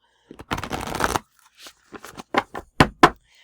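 Playing cards are shuffled up close: a long riffling burst followed by several short, separate snaps and flutters.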